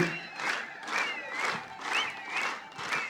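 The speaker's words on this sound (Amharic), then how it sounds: "ከፍ ያለ ጭብጨባ፣ ሞራል።" A crowd at a graduation ceremony cheers and claps as elders are called to the stage, the noise swelling in steady waves about every half second, with high, wavering calls riding on top.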